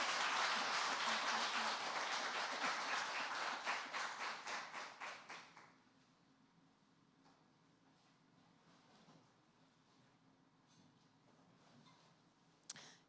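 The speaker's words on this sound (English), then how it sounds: "Can we give Nina one last round of applause?" An audience at a cultural heritage event gives a performer a warm round of applause, dense and sustained for several seconds, then thinning into scattered claps before the room goes quiet.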